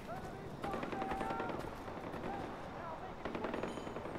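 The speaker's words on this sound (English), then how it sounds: "I hear people shooting" Video game gunfire in Far Cry 4, a dense, continuous rattle of automatic shots with bursts of impacts running through the whole stretch, mid-distance and fairly loud, layered with other game effects.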